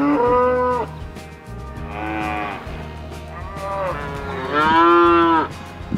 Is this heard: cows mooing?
yes